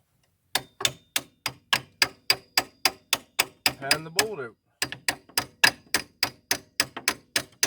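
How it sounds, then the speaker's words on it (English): A hammer strikes vice grips clamped on a rusted bolt in the rear suspension of a 2006-10 Ford E-series van. About two dozen sharp metallic blows land in a steady rhythm, close and loud, with a short break where someone speaks. "Take your hammer."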